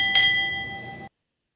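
A single bell struck once, ringing out with a bright metallic clang and a sustained shimmering tone that decays for about a second before stopping abruptly.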